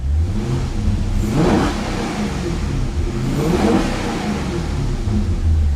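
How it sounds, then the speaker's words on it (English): A straight-piped Maserati Quattroporte S engine revved with throttle stabs: two loud, close blips rise and fall from a smooth idle, with a throaty exhaust rasp between them and no talking. "Let's give it some throttle."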